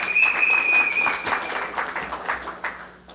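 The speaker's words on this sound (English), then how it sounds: "So let's give them a round of applause" Brief applause from an audience for protective services and law enforcement workers, a scattered clatter of hands that thins out and fades, with a high steady tone ringing over the start.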